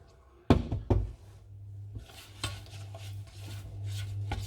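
Sugar and butter are stirred in a pan while the sugar melts into the butter for a banoffee pie filling, with a couple of sharp knocks of the utensil against the pan, then continuous scraping and soft rubbing close by.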